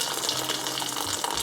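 Water poured steadily over sorrel and sugar for a Christmas drink, a continuous close splashing gush with no pause.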